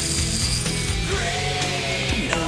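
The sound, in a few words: homemade 9-volt electric lock pick mechanism running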